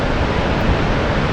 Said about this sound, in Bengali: আপনারা এখানে দেখতেই পাচ্ছেন যে পানির শব্দ কি পরিমাণে আছে